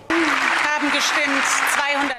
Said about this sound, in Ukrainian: Можете ще аплодувати